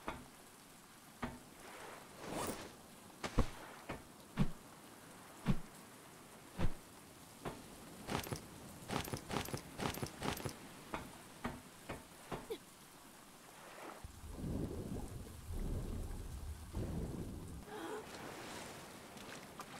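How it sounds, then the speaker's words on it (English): Rain falls in the survival video game Stranded Deep, a steady hiss broken by a run of sharp, irregular hits and pops, with a heavier, lower rumbling wash late on. "I think it's raining."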